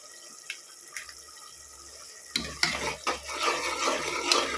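Spices with biryani masala sautéed in a pan for tomato rice, quiet ticks at first, then louder sizzling with scraping stirs and watery bubbling, close up with no talk.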